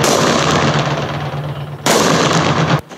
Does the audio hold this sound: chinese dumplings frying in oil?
no